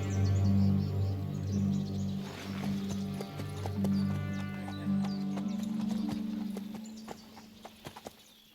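Horse in the video game Kingdom Come Deliverance 2 clops along with steady hoofbeats and gives a loud neigh, with birds chirping faintly in the outdoor background and music playing underneath.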